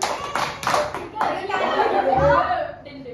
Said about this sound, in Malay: tepuk tangan dia tadi